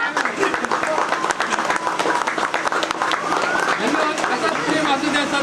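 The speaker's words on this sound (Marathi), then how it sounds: "सर्वांनी जोरदार टाळ्या वाजवायच्या" Audience at a Home Minister Paithani game-show event applauding loudly, dense continuous clapping from a large crowd with voices mixed in.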